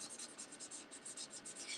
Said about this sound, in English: So I'm just literally colouring the plane in.